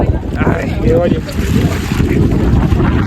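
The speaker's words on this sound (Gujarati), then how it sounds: "ચિરાગભાઈને તો અને પવને ગાભા કાઢી નાખે આપણને" Strong wind buffets the microphone, a loud continuous low roar with gusty swells throughout.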